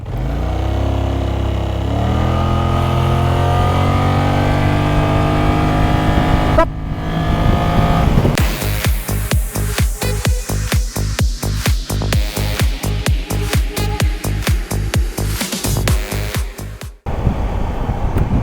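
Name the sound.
maxi scooter accelerating on test ride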